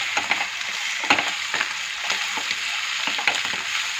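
Homemade noodles are stirred in a hot sizzling pan, a steady close frying hiss broken by frequent sharp clacks and scrapes of the utensil against the pan, with no talking.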